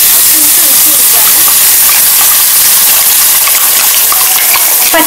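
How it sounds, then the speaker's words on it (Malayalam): Kerala pachadi mix for a Vishu sadya is poured into spluttering mustard seeds in hot oil, giving a loud, close, continuous sizzle and hiss with a voice faintly beneath. "കടുക് പൊട്ടിയിട്ടുണ്ട് കേട്ടോ. അപ്പോൾ അതിലേക്ക് ഞാൻ മിക്സ് ഒഴിച്ചു കൊടുക്കാം"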